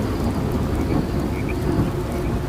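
Heavy rain pours down steadily with deep rolling thunder rumbling underneath, a loud, dense stormy wash with no voices.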